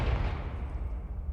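Confringo spell blast in Hogwarts Legacy: a single heavy, booming impact that starts at full strength and then decays into a low rumbling tail, close and alone.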